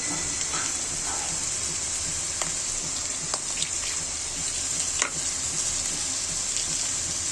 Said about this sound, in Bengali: মশলাটা কষিয়ে নিব ভালো করে